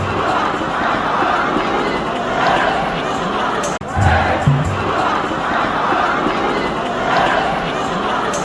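Packed football stadium crowd shouting insults in unison, a loud, continuous roar of massed voices with rhythmic chanting swells and a brief thump partway through.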